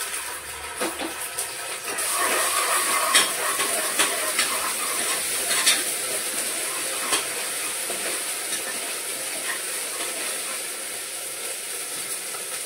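Ginger garlic paste stirred in a hot pan: a steady, close sizzle and hiss of frying, with scraping stir strokes rising and falling throughout, no talking.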